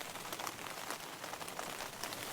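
Rain falls steadily, a dense, soft patter of drops close by on a surface next to a camping setup, faint and continuous with no talk.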